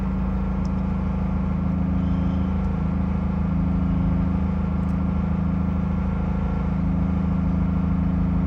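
A car engine held at a steady fast idle near 240 RPM, a constant low drone close by and loud with no rises in pitch, under the hood of a 1962 Rambler American body on a 2001 Honda Civic.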